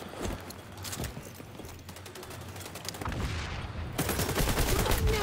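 Gunfire in the shooter game XDefiant on the Attica Heights map, a dense stream of rapid automatic shots and clattering effects that swells louder toward the end, with no talking.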